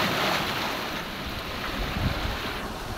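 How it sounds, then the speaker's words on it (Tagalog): Strong ocean waves surge and crash near large rocks along a shore in rough low-pressure weather, a dense continuous roar with wind buffeting the microphone. "lakas ng alon"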